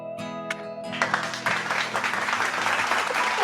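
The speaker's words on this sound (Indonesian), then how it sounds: "tepuk tangan dulu nih buat Joshua Kela" Applause for a student in an online Zoom class, starting with a few tones and scattered claps, then swelling into steady, dense clapping.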